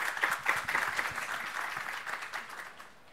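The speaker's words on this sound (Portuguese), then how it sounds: "eu gostaria de que todos dessem uma salva de palmas aqui à" Dense, sustained applause from an audience for speaker Marina at an FGV digital marketing forum, a steady wash of many hands clapping that thins and fades toward the end.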